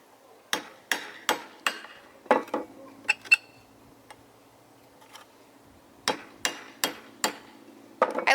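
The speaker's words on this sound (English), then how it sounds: "You just use a large nail and a hammer," Sharp metallic hammer blows drive a large nail through the bottom of a can, making holes in quick clusters of four or five with a pause between groups, close and clear.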